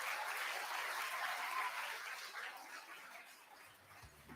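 Audience applause at a university convocation, a sustained wash of clapping from a crowd that gradually thins and fades toward the end.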